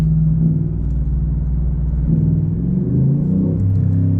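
Low, steady engine rumble from inside a truck as it pulls along, with the pitch rising and dropping slightly as it shifts gear, with a slight hiccup on one shift.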